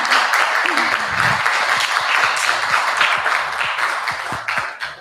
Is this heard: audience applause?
yes